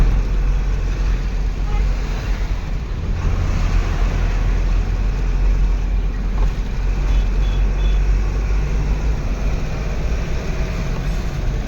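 Dense road traffic rumbles through Pune, trucks and other vehicles grinding along in a steady, loud, low-pitched roar without pause, heard from close by.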